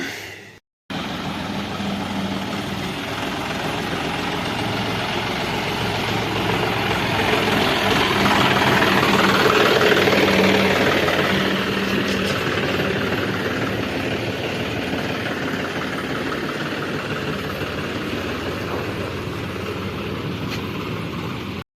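A tractor engine drones steadily as it drives, loud and continuous for about twenty seconds with a gradual swell in the middle and no talking.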